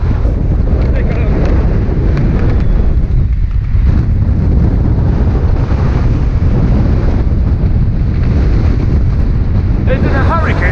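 Heavy wind blasts the microphone while riding a steel gravel bike around Hollinsclough, with a loud, constant rumbling roar, gusting without pause for the whole stretch.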